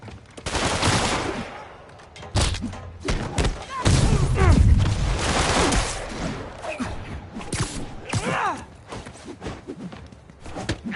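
Video game gunfire from armed enemies during a Marvel's Spider-Man street fight, with bursts of rapid shots, heavy booms and thuds layered under shouting, whooshes and impacts, loud and dense throughout with voices talking in between.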